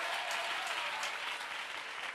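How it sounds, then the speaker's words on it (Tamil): An audience claps during a Good Friday church service, a dense, steady burst of applause that holds at an even level throughout, with no voices over it. "இதான் கைத்தட்டா."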